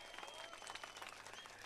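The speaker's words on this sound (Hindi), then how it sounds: "एक बार जोरदार तालियां बजा दीजिए इनके लिए" Audience at an Arvind Kejriwal AAP speech in Ahmedabad applauding, a dense wash of clapping and crowd noise that holds steady through the whole brief moment.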